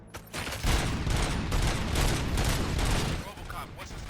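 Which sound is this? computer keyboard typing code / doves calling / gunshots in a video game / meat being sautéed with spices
gunshots in a video game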